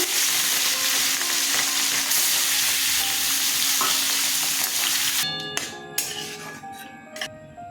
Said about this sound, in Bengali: তেল গরম হয়ে গেছে, মাছগুলো ছেড়ে দিচ্ছি